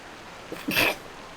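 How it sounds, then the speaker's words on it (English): A single sharp sneeze, close and fairly loud, with a brief intake of breath just before it and quiet on either side. "it was slightly ruined by a sneeze"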